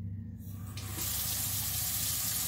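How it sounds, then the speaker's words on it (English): A tap turns on and hot water runs steadily into a sink, a constant rushing splash that starts after a short quiet moment. "the first thing I'm gonna do is run hot water"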